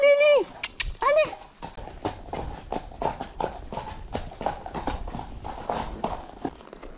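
A pony's hooves clip-clop in a fast, uneven rhythm of sharp close knocks, with a high-pitched whinny or squeal at the start and a voice briefly under it.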